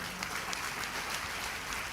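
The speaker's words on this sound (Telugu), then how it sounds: "చప్పట్లు కొట్టి ప్రభువుని కనపరచండి" Applause from a church congregation during a Telugu Christian sermon: dense, steady clapping sustained evenly throughout at moderate loudness, with no voice over it.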